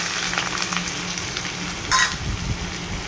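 Onions with sugar frying in mustard oil in a wok: a steady, close sizzle with brief stirring scrapes, no talking.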